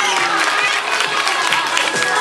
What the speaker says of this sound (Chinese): 请给阿诺掌声鼓励。